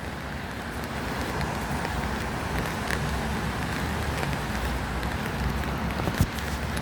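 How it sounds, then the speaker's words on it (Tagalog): Steady rain falling in Dubai, a broad continuous hiss with distant traffic rumble beneath, even and unbroken throughout, with one brief knock near the end and no voices. "Umuulan ang Dubai."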